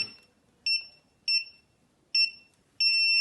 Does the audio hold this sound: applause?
no